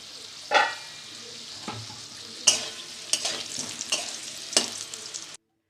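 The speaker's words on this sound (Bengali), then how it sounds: "আলুটা আমার ভাজা হয়ে গেছে।" Potatoes frying in oil in a pan while a curry is cooked, heard as a steady close sizzle with several sharp stirring scrapes and clatters spaced through it, without talk.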